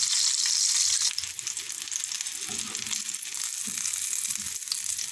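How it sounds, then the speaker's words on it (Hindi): Chicken omelette kababs fry on high heat in oil, giving a constant, close, bright sizzle with crackling spatters, loudest at the start and steady throughout. "थोड़ा सा आंच को तेज़ करके दूसरी तरफ से भी हम कबाब फ्राई कर लेंगे।"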